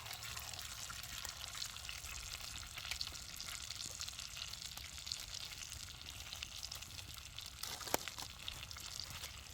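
Potatoes and eggs fry in a pan outdoors alongside sausage, making a steady soft crackling sizzle with scattered pops. It runs continuously at a low, close level with no voices.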